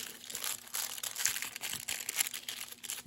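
Crinkly wrapping folded up during relief printmaking, a close, dry crackling and crumpling that rustles steadily in irregular bursts with no talking.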